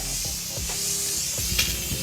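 A pressure washer throws a cone-shaped spray during a house wash, low around plants, giving a steady loud hiss close by with no talk.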